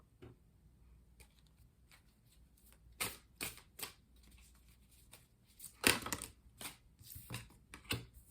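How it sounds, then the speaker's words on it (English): Tarot cards shuffled and drawn from the deck, soft close riffles and flicks with scattered louder card slaps and taps, no talking. "We're going to pull 4 tarot cards for the day."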